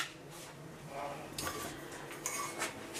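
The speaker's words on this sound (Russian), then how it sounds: "как я тут посуду раскладываю" Dishes and cutlery are being put away, with a few sharp clinks and clatters of crockery and utensils standing out over a quiet room background.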